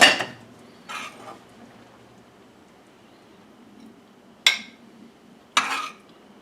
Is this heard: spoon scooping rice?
yes